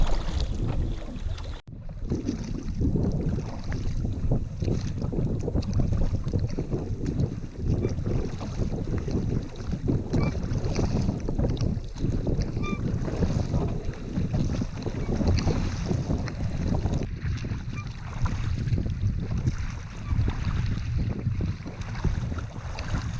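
Rowboat on a windy reservoir lake, steady heavy wind buffeting the microphone over water slapping and sloshing against the hull, continuous and loud with no speech.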